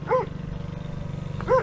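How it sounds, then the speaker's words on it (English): A dog gives two short barks about a second and a half apart, close and moderately loud over a steady low hum, outdoors near a lake where jet skis are in use. "Should go say hello to the dog"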